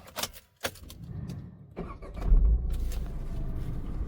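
A new Tata Tiago hatchback responds to its key: a few sharp clicks, then a low engine-like rumble that builds and holds steady, heard up close with no talking.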